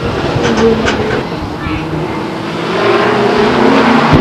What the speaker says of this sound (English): Seems as though he's got the car started again and heading back towards the infield.